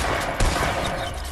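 Video game gunfire rattles in a dense, continuous volley with one sharper, louder shot near the start, close and fairly loud with no voices over it.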